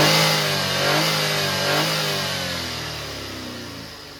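A 2014 Maruti Suzuki Celerio VXi petrol engine revs up under the accelerator, a loud close mid-pitched drone that rises, dips and swells again, then slowly settles lower as it fades back toward idle.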